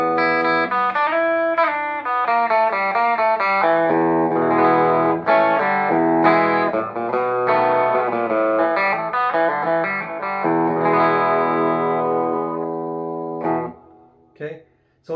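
Gibson Les Paul Classic electric guitar played through a Spark Live amp on its clean setting and picked up by a phone: bright, ringing chords and notes sound steadily for about thirteen seconds, then trail off and stop near the end.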